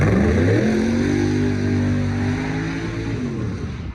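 A street-class race car engine revs loudly at Xtreme Raceway Park with rising and falling pitch, steady and close, fading slightly toward the end.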